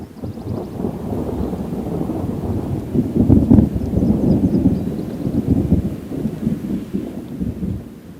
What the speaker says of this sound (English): Thunder is close now.